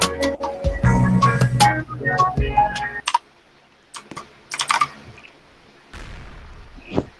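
Quick bursts of clicky keystrokes from a mechanical keyboard with blue switches, loud and close, then sparser taps trailing off into near silence with a few isolated clicks.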